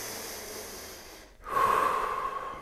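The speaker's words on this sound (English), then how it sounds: "Big breath in" A deep breath drawn in during a yoga core-stability exercise, a broad airy inhale that swells after a brief pause and holds steady, close and clear with no talking.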